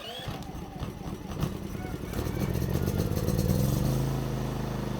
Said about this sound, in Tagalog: So buhay na yung ating generator, may power output na rin siya.